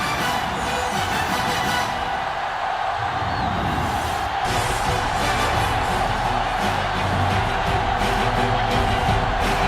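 A crowd at a high school championship football game cheers and roars at kickoff, a broad continuous wall of voices and whoops that holds steady throughout, with the noise swelling slightly toward the end.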